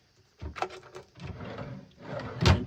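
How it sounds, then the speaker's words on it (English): A cutlery drawer in the kitchen of a 2026 Auto-Sleepers Bourton motorhome slides open and shut, giving soft rolling runner noise and rattles, then a firmer close thump at the end, near and without talk. "And then your cutlery drawer."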